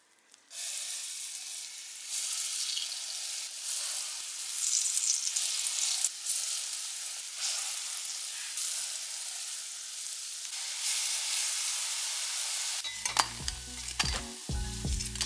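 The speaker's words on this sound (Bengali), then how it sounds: "ডালের বড়াগুলো ফ্রাই করা হয়ে গেছে" Lentil fritters (dal bora) deep-fry in hot oil with a strong, even sizzle starting just after a brief silence and running throughout, ending with a few clattering knocks of a utensil; no talking.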